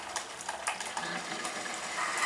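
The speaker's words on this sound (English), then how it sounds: "That's the sound of life coming out of my Keurig machine." A Keurig coffee machine brews a small single cup, giving a steady hissing, gurgling drip with faint mechanical ticks throughout, close and moderately loud.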